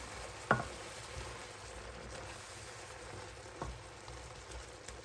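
Butter sizzles in a pan while a soup is being prepared, giving a steady, quiet, crackling hiss with a few faint clinks and taps.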